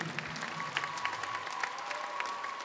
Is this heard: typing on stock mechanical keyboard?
no